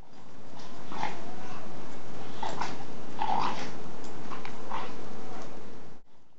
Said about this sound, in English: excited barking or non-threatening growls may be heard